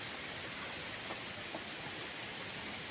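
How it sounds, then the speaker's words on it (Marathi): Heavy rain pours on a hillside in the Konkan region near streams, a steady, even broadband wash of falling water, moderately quiet and unbroken, with no voices. "पाऊस पण आला जोरात."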